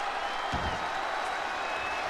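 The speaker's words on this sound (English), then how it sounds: "The WWE crowd, the fans here, are living it up here." A video game wrestling crowd in WWE 2K20 roars in a steady, wash-like cheer with scattered applause, filling the arena evenly throughout with one dull thump near the start.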